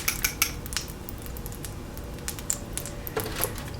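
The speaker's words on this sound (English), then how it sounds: "I'm just going to give my eggs another little quick whip." Eggs are whisked in a bowl with quick metallic clinks and taps of a whisk against the sides, irregular bursts over low background noise, close and fairly clear with no talking.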